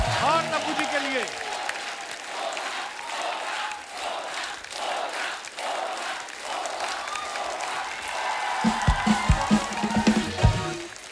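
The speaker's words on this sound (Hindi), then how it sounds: "जोरदार तालियां हो जाए अजय साहब के लिए" Studio audience on a TV comedy show gives loud, sustained applause with cheering for the arriving film guests, steady for about eight seconds before thinning into scattered claps and thumps.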